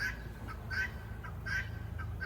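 A guinea fowl calls in a rapid rhythmic series of harsh, grating chirps, repeated in bursts about every half second. The calls sound close and loud over a low background rumble, with no talking.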